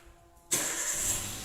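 A car engine starting, checked with a scan tool for an engine fault: a sudden close crank catches into a steady, loud idle roar after a brief quiet moment.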